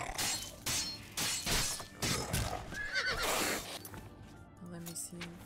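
A horse neighs loudly in the modded fantasy video game Oblivion during a fight, its whinny mixed with clattering hooves and crashing combat effects, while a voice talks over the game sounds.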